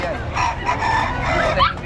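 A fighting rooster crows amid a busy, noisy background of other birds at a pet market, the call rising and falling over about two seconds.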